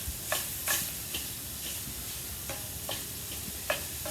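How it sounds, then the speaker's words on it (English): Sausage cooking on an outdoor grill gives a steady, moderate sizzle with a few sharp pops and crackles spaced across it. No one speaks. "Smell that sausage cooking now."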